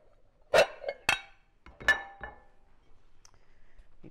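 A plate set down with a few sharp clinks and thunks of dishware, close and distinct, spaced over a couple of seconds in a quiet kitchen, alongside preparation of lemony garlic turkey balls.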